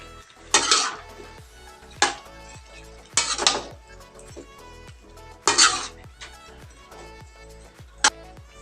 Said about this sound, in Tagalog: Ilagay na natin yung sayote